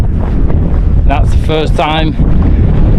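Gusty wind buffets the microphone on the open North Yorkshire Moors, a heavy low rumble that runs throughout while someone speaks briefly over it.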